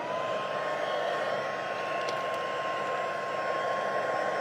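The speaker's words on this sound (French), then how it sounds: "Reprendre un tout petit peu le fer, le pistolet chauffant." A heat gun blows hot air over craft paper in a steady, unbroken whoosh with a faint whine, close and constant throughout, and no one speaking.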